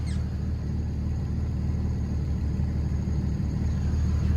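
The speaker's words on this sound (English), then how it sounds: "started the car, guys, and listen to this idle." A Honda Civic engine idles steadily at about 1,100 rpm, a smooth, even low rumble with no fluctuation, heard close and alone.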